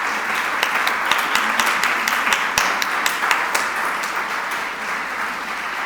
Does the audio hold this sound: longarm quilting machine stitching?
no